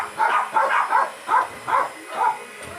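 A dog barks six times in an uneven series, each bark short and fairly close, with a brief pause partway through.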